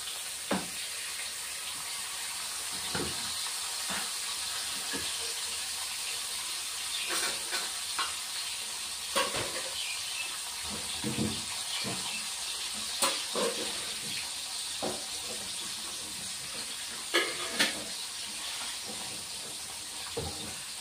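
Rui fish pieces fry in hot oil with a steady, close sizzling hiss, broken by scattered sharp crackles and pops that continue throughout.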